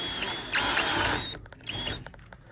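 A screw is driven in by hand with a screwdriver while refitting the fan on a Rinnai RL75 tankless water heater. Two close bursts of dense whirring ratchet clicks are separated by a few sharp ticks.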